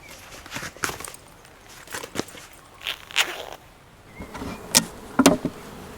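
Honeybees around a hive being checked by a beekeeper, a faint buzzing with a few brief, closer buzzes as individual bees pass near, no voices.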